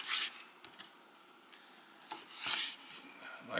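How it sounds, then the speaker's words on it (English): A knife cutting deboned rabbit back straps into pieces, a few soft scraping, rubbing cuts spread irregularly over a few seconds, close and fairly quiet, with no talking. "I'm just cutting these back straps into pieces"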